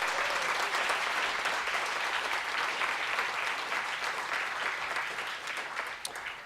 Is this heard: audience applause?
yes